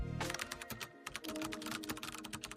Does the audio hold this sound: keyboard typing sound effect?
yes